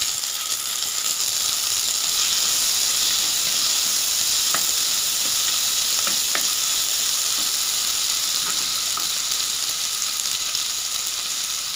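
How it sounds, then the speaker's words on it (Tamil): Tomatoes and crushed pepper sizzle in a pan for spinach soup, a steady loud frying hiss throughout with occasional faint clicks of a spoon stirring, close by and with no talk. "இதை சேர்த்து நல்லா வதக்கிக்கோங்க."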